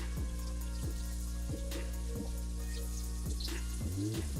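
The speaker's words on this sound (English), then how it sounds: "Just a few more large leaves here to rinse real quick." Large kale and spinach leaves rinsed under running tap water, with a quiet, steady flow and soft splashing, plus several brief handling clicks and rustles close by, fairly faint and without talk.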